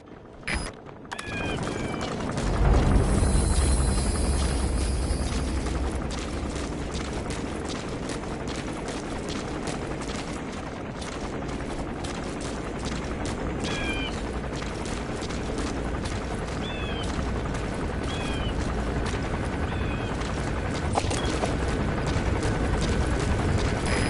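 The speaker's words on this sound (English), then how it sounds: "There's a chopper landing." Helicopter setting down in Metal Gear Solid V: The Phantom Pain, a steady broadband rotor roar that swells early and holds loud throughout, with faint scattered mechanical clicks and game effects mixed in.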